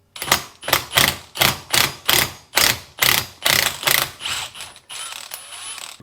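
An impact wrench hammers in about ten quick, evenly spaced bursts while loosening a part of a vintage air fork from a 1982 Kawasaki KDX 450. The rattle is close and sharp, then trails off into quieter clicks, with no voices.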